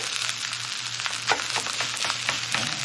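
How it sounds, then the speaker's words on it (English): Garlic fried rice with Spam and bacon frying in a hot pan, a loud steady sizzle with scraping stirs and clatter breaking through at intervals, close up and without voices. "And all we have to do now is just give it a stir"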